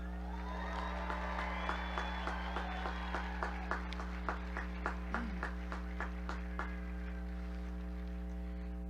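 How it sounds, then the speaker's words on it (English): A graduation commencement audience applauds, with faint, distant clapping spread across the hall over a steady low electrical hum. "One more huge round of applause."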